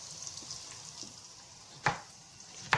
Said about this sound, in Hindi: जब ऑयल गर्म हो जाए तो फिर आपने इसमें चॉप ऑनियन ऐड करने हैं। फिर इनको मिक्स करना है।